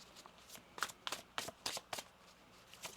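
Tarot cards being shuffled: a quick series of about six crisp riffling bursts, close but quiet, with no voices.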